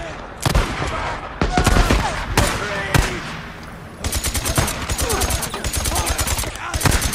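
Rapid automatic gunfire from the Days Gone video game, loud and close, arriving in several sharp bursts with brief gaps between them.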